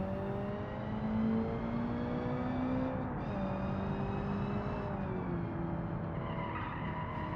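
A 1990s-style sports car with skinny front tires drifts in a driving game, its engine droning steadily while the tires skid and squeal loudly throughout, with no talking.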